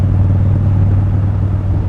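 A steady, loud engine drone with deep low rumble, continuous and close, from a rebuilt 2017 Street Bob motorcycle cruising at an even speed with its exhaust refitted.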